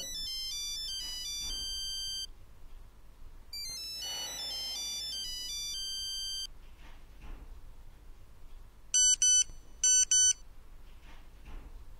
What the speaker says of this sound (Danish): Det er din tandlæge, der ringer.